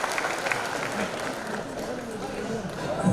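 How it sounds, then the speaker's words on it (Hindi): A live audience at a Hindi comedy poetry event applauds loudly and steadily, dense clapping filling the hall from start to finish, with voices mixed into the crowd noise. "जरा जोरदार तालियां बजा दीजिए"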